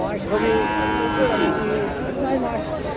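A cross-breed cow at a cattle market in Rajshahi gives a long, loud moo close by, with crowd chatter and voices underneath.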